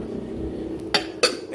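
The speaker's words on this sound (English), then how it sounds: "Sink full of dirty dishes." Dirty dishes clink and clatter in a kitchen sink with two sharp bright crashes over a steady low background hum.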